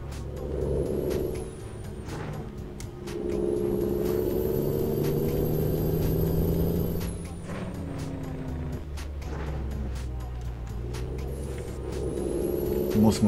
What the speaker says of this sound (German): Ah, der Freightliner ist schon nice vom Sound her.